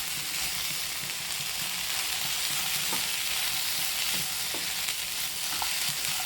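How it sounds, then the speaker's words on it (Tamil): Okra and potatoes stirred together in a frying pan, sizzling steadily with occasional soft scrapes and clinks of the spatula, close and continuous with no talk. "உருளைக்கிழங்கு எல்லாம் ஒன்றா சேர்த்து கலரி விட்டுருங்க."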